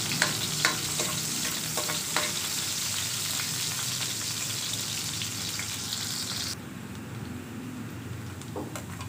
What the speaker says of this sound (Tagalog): Lagay na po natin yung sibuyas. Halo-haloin na po natin.